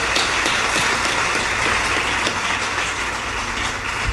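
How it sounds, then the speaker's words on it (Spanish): A church audience welcomes a brother to the front with warm applause, a dense, steady roar of many hands clapping that stays loud and even throughout, with no voices over it. "le recibimos con un caluroso aplauso"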